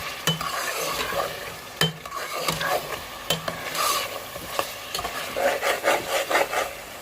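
Masala and potatoes for an aloo matar chicken curry sauté in a pan, with a steady close sizzle broken by repeated scraping strokes of a spoon stirring through the mixture.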